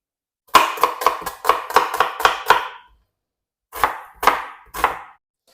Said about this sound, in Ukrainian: Для початку я наріжу цибульку.